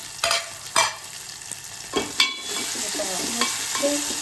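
Tomato tempering for toor dal sizzling in a pan on low heat, a soft continuous frying hiss broken by several sharp scrapes and clinks of a ladle stirring.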